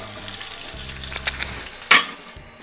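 Finely chopped onions with star anise, cinnamon, cloves and cumin frying in oil in a pan give a continuous close sizzle, with low scraping stirs and a brief sharp crackle near the end.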